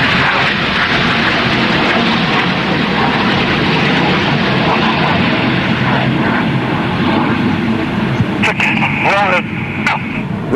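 Red Arrows jets roar overhead at the Eastbourne International Airshow, a loud continuous engine rumble throughout, with a commentator talking over it.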